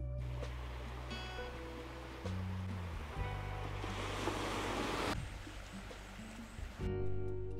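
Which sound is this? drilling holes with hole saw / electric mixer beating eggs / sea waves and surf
sea waves and surf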